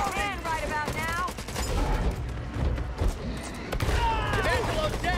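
Gunfire from a Back 4 Blood co-op shooter match: dense, continuous bursts of shots and booms filling the whole stretch under overlapping player voices, loud and chaotic with no clear pauses.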